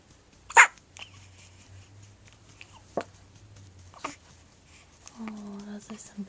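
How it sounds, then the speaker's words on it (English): A baby hiccups in a few sharp, brief bursts spaced a second or two apart, fairly close, with soft adult talk and quiet background between them. "Oh, those are some big hiccups."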